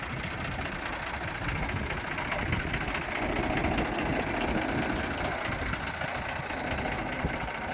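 A Mahindra 275 tractor engine idles steadily and fairly loudly nearby, with a constant low rumble and a fast, even knocking pulse that continues throughout, with no voices.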